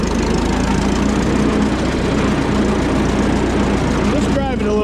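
A car with a stuck clutch drives along in third gear, its engine humming steadily and loud with a low drone and rattle throughout, while a person talks over it.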